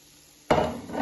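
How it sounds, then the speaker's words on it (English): Raw mince tipped back into a cooking container for homemade cottage pie, a sudden soft clatter and scrape that starts midway and carries on as a dense, close rustling shuffle. "So we're gonna put the mince back in here"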